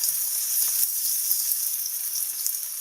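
Onions with ginger-garlic paste fry over low heat in a pan for shimla mirch chicken, producing an even, close hiss of sizzling that runs without a break and with no voices.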